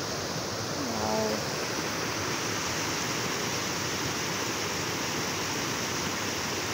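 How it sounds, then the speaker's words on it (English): Rainwater in Brahmapuram, Vellore, rushes like a waterfall in a constant loud broadband roar, with a brief faint voice near the start. "how the water is going like waterfall in Belur"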